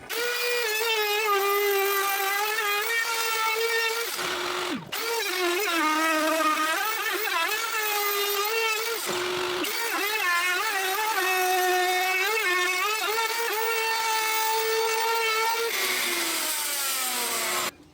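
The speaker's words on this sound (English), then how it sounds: "It's a magical thing, a router." A wood router cutting a shape whines with a loud, steady high-pitched tone, its pitch wavering under load, briefly stopping twice and then resuming, with no voices.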